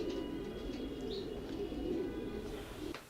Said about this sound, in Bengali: আপনাদেরকে আমরা আমাদের রেসিং পিজনগুলো দেখালাম